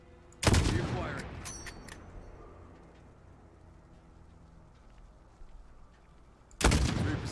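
Gunfire in the video game Modern Warfare: a loud, sharp shot followed by a long fading echo and rumbling tail, with faint voices and clicks, then a second loud shot near the end.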